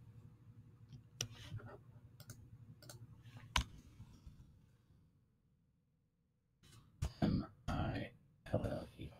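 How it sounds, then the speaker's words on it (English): Computer keyboard typing while building a Tinkercad luggage tag: bursts of sharp key clicks, a few isolated taps early on, then a quiet pause, then a denser run of close clicks, with faint background hum. "I'm just going to type in"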